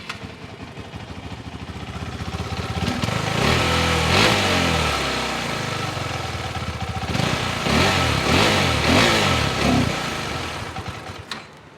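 A KTM Adventure 390 motorcycle fires up and idles, then its engine is revved twice in loud, close bursts before settling back and fading.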